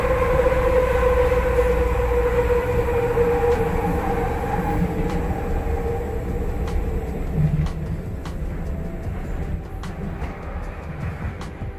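A metro train running on the Minecraft SkyTrain line gives a steady, loud rolling rumble with a humming motor tone that slowly dies away, and faint rhythmic clicks of the wheels over the track near the end.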